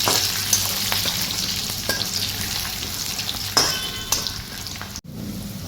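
Green chili chivda tempering sizzling steadily in hot oil with cumin, mustard seeds, green chilies, garlic and peanuts, a continuous close frying hiss with occasional stirring clatter and a brief drop near the end.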